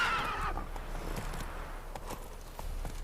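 Roach, a horse in The Witcher 3, galloping with steady hoofbeats under a windy, rushing game soundscape, loud and close throughout.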